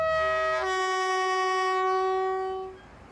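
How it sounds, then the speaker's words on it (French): A locomotive in Tunisia sounds a loud, close, sustained horn blast that holds for about two and a half seconds before fading into the hum of the train. "La locomotive est prête."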